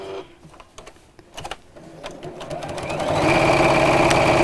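A domestic sewing machine starts stitching, first a few slow clattering stitches, then a rapid, steady mechanical whir that builds to full speed and stays loud and close.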